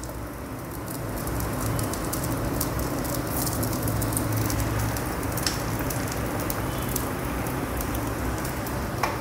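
A dosa on a hot pan with oil added around its edges gives a steady, moderate crackling sizzle, with faint scattered pops and a low background hum throughout.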